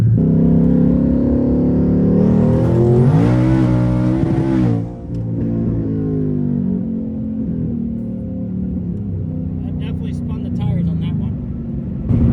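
A Ford Gen 3 Coyote V8 in a car runs on boost, revving hard for a couple of seconds before dropping back to a rough, steady idle, with a brief whine and faint clicks late on.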